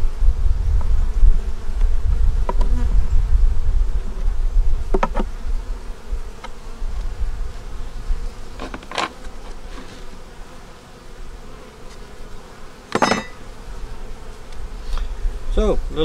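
Honey bees buzzing around a hive in South Carolina, a steady close droning hum with individual bees flying past the microphone, and no speech.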